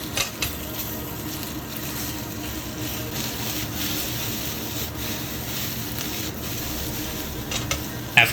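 Steady sizzling and scraping as chicken pieces are stir-fried in a hot wok, with a spatula clinking and stirring continuously, close up and fairly loud.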